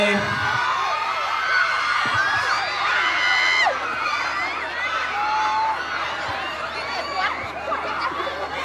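A large concert audience in Songkhla, Thailand screams and cheers continuously, high-pitched shrieks and whoops layered over a dense crowd roar.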